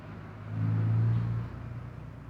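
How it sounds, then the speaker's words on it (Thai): A low engine rumble swells and fades as a heavy ten-wheeler truck passes nearby, leaving faint road noise behind. "รถสิบล้อวิ่งผ่านเยอะแยะเลย"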